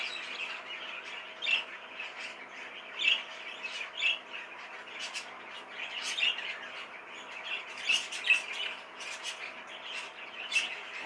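A pair of birds sit together on a perch and give short, sharp squawks and chirps at irregular intervals. The calls are fairly faint and rise over a quiet, steady background hum.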